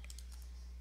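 Keys tapped on a computer keyboard while entering a command in a Linux terminal: a few quick, light clicks in the first half, close up, over a steady low electrical hum.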